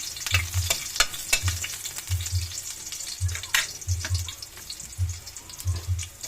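Garlic sautéing in a pan for pansit, a soft sizzle under repeated scraping and stirring strokes that come in irregular bursts, with faint running water nearby.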